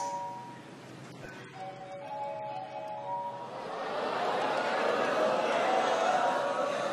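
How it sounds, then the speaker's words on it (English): A mobile phone rings out from the audience at a stand-up comedy show, a faint repeating electronic tone over room noise, before crowd murmur and laughter swell and fill the room. "Go and answer your phone"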